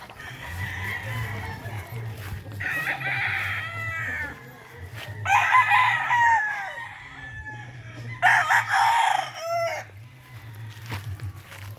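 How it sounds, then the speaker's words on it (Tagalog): Chickens on a backyard farm, including yellow-legged roosters, cluck and crow in several bursts, with a low steady hum underneath and faint voices at times. "Yan yung mga manok dito."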